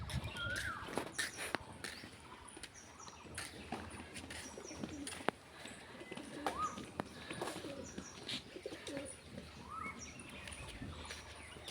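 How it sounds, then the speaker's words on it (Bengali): Pet pigeons coo softly at a home loft, with low repeated calls and scattered chirps mixed with faint clicks and rustling, fairly quiet and close. "আমরা শখ করাচ্ছি পায়রা।"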